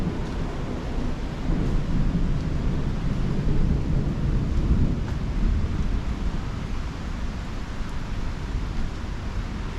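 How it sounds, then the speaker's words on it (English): Heavy rain pours down in a steady, dense roar with low thunder rumbling underneath, continuous for the whole stretch, with no voices. "The rain's starting to come down a little bit harder."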